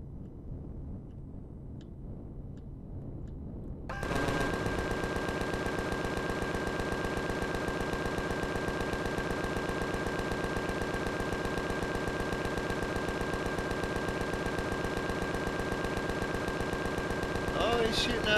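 Sustained rapid gunfire from an enemy in the Empyrion space survival game, a dense continuous mechanical rattle with a steady tonal drone that starts abruptly after a few quiet seconds and continues to the end.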